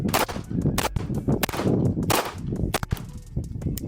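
A string of sharp, loud pistol shots from an Alpha Foxtrot Romulus 2011 handgun, about eight close reports in quick, slightly uneven rhythm, each with a brief metallic ring.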